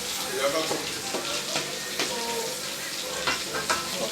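Onion and garlic fry in hot oil for Nigerian fried rice, a steady bright sizzle with occasional stirring scrapes close by.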